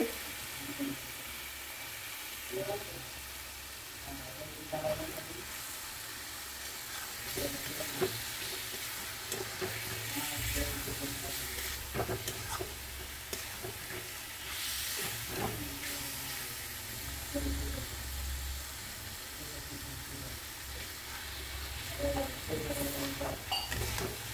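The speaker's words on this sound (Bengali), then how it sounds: "মাছটা দিয়ে দিব, মাছটা কষিয়ে নিব" Fish sautés in oil in a pan for a Bengali curry, a steady close sizzle and hiss running throughout with occasional stirring scrapes and pan knocks.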